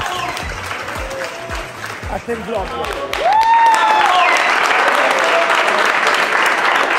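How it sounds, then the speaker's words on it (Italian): A crowd applauds at an outdoor gathering of motorcycle riders, steady broadband clapping building and holding loud to the end, with people talking over it and a rising whistle-like tone in the middle. "Fate tutti un applauso."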